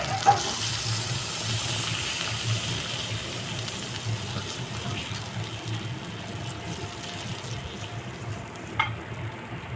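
Water goes into a pan of sizzling fried spiced masala for jackfruit kofta, a continuous hissing, bubbling sizzle close by with a couple of small clinks.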